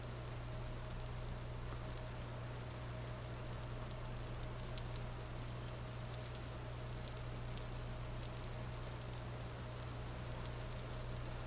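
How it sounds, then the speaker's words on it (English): Rain falls steadily in the video game Vintage Story, a constant hissing, crackling wash with a low hum beneath, even and unbroken throughout. "there should be some rain. It kind of sounds like crackling"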